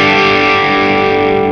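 A single heavily distorted electric guitar chord rings out loud and sustained, buzzing and dense throughout.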